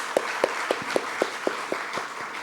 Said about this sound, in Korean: 박수로 한번 환영했으면 좋겠습니다.